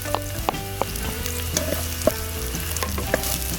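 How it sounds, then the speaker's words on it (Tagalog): Onion and garlic sizzle in hot oil in a pan at a backyard cooking setup, a constant close frying hiss broken by sharp crackles and pops, with occasional stirring clatter and no talk. "magigisa tayo ng ating sibuyas at saka garlic"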